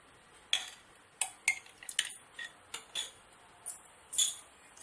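A spoon mixing fried chicken filling with mayonnaise in a bowl, sharp clinks and scrapes against the bowl in an irregular rhythm of about ten strokes, close and clear with no talking.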